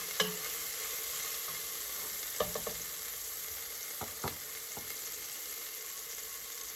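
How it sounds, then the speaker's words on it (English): Garlic frying with onions in a pan for pizza sauce, a soft steady sizzle with occasional light scraping and stirring clicks, no voices. "I'm going to go ahead and add my garlic."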